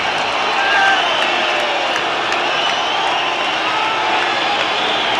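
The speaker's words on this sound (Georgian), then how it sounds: "მეხზე ამდგარი გულშემატკივარი ტაშით აჯილდოვებს დავით ზირაკაშვილს" Stadium crowd at a Georgia versus Russia rugby match in the European Nations Cup applauding and cheering a try by Davit Zirakashvili, a dense, loud, sustained roar of clapping and voices with a commentator talking over it.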